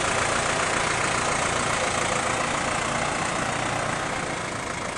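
A New Holland T4050 tractor engine idles with a steady, loud, unbroken mechanical drone throughout, close by and with no talking.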